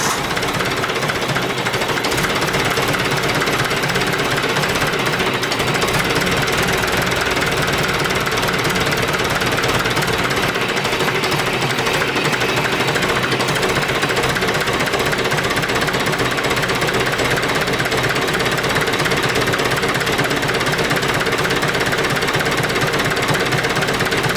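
A Ford 172 diesel engine idles at low RPM, loud and close, with a continuous rapid knocking clatter and a steady rumble that barely changes throughout.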